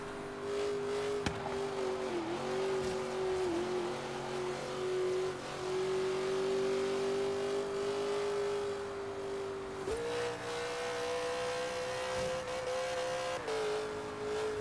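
An AMC Javelin accelerates hard in the racing game Forza Horizon 3. The engine holds a loud, sustained roar, with rising revs that dip briefly at each gear shift across the run.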